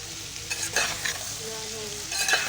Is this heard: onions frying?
yes